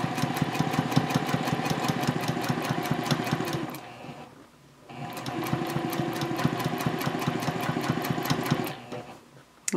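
Domestic sewing machine stitching fabric piping, a fast even mechanical rattle running for about four seconds, a brief pause, then another long run of rapid stitching, close and clear.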